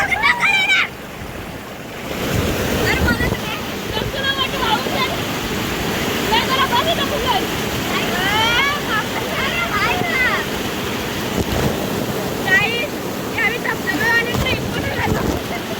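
A waterfall at a hidden spot near Bhiwandi roars as a steady, broad rush of falling water, loud and continuous, with people talking and calling out over it throughout.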